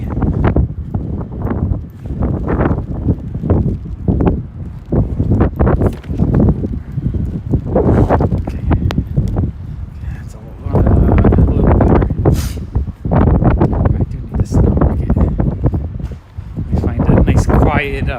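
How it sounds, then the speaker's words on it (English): Strong gusty wind buffets the microphone on a Brooklyn street at night in the rain, with heavy, uneven low rumbles under someone talking almost the whole time. "It's so windy over here. It's like a wind tunnel."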